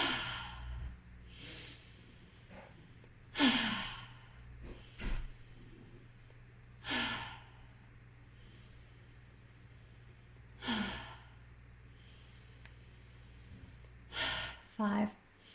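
A deep breathing exercise for throat rebalancing: slow, forceful inhales and exhales come at regular intervals, each a loud, close, airy rush separated by near-silence.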